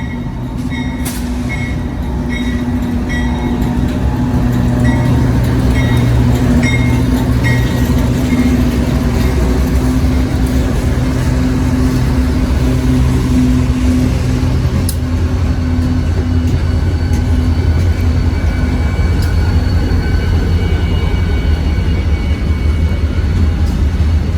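A long street-running freight train rumbles past, led by five locomotives including a slug, with a heritage-unit DPU mid-train; steady loud engine drone and rolling wheel noise throughout, with occasional sharper squeals and clanks.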